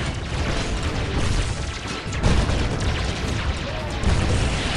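A siege cannon fires in the Dawn of War Unification mod over a dense, loud battle din. Heavy booms hit about two seconds in and again near the end.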